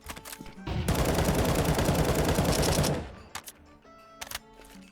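Sustained automatic fire from an M4A1-S rifle in Counter-Strike on the de_Victoria B bombsite: a dense, loud two-second burst of rapid shots, followed by a few scattered clicks and quieter game sounds.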